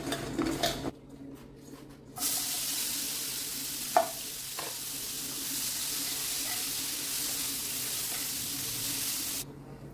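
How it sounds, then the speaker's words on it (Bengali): Pointed gourd (potol) frying in oil in a home kitchen pan, a steady broadband sizzle running for most of the stretch, with a couple of sharp utensil clinks and stirring scrapes early on. "আগে পটলটা ভেজে নিব"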